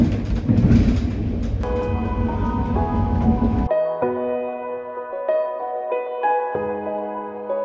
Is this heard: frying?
no